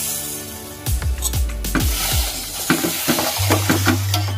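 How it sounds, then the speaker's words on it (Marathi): A spoon stirring roasted rice semolina in a pot, scraping and knocking against the metal in irregular strokes, with soft sizzling underneath and a low steady hum toward the end. "आणि चांगलं हलवत राहणार आहोत म्हणजे फुलू नये"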